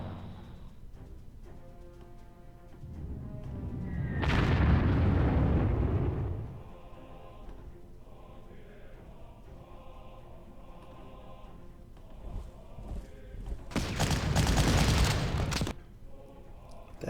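German 88 mm gun firing in the Panzer Corps strategy game, two heavy booming blasts with long rumbling tails several seconds apart, over quiet background music.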